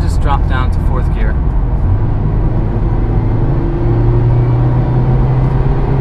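A 2017 Mazda Miata RF's engine drones steadily after a downshift into fourth gear, its low hum holding near and constant, with a faint rise in pitch partway through as the revs climb. A voice speaks briefly at the start.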